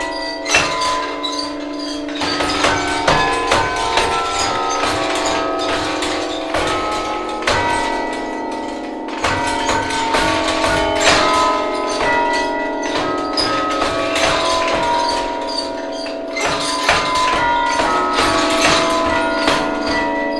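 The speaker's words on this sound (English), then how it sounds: "the bells were cast in Troy, New York by the Meneely Bell founder, and they were delivered down here, and we can play tunes on this instrument" Meneely tower bells, cast in Troy, New York, ring out the hymn tune Welcome Happy Morning in the Cleveland bell tower, a loud, steady melody of overlapping struck tones with lingering resonance and faint mechanical clunks, no talking.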